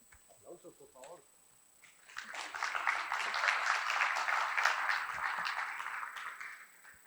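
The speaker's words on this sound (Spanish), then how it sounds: "Aplausos, por favor." Audience applause for a doctor welcomed to speak on prosthetic joint replacement, beginning after a short spoken introduction and building into a dense, sustained round of clapping that fills the hall.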